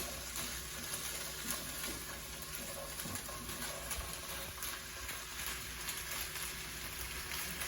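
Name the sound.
food sizzling in a pan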